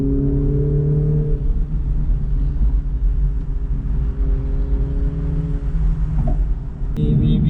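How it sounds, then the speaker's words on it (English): A BMW Z4 in sports mode gives a loud, steady engine drone with low rumble and harmonic tones. It holds close and continuous, with a brief shift in pitch near the end. "Now, let's drive in sports mode."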